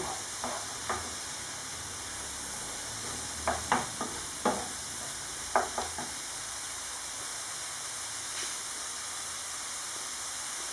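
Filled msemen flatbread cooking in a pan, giving a steady soft sizzle throughout, with a handful of light clinks and scrapes of a utensil scattered over the first half.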